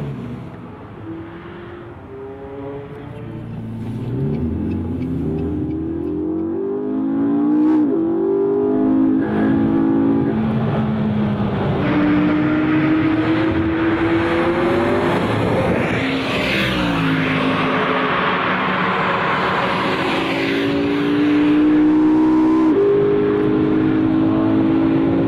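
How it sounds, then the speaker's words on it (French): Luxury race car lapping the Le Mans circuit at around 300 km/h, a loud sustained engine roar rising and falling through gear changes, heard from inside or close by, with no talking. "Et c'est parti, à 300 km/h sur le circuit du Mans."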